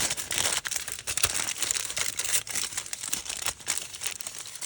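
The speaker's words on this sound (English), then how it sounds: "So I've got my aluminum foil. I'm going to kind of fold it." Aluminum foil is folded and crumpled close by in a lab setting, giving continuous crisp crinkling and rustling with uneven bursts and no talking.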